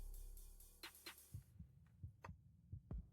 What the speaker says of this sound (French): les battements de cœur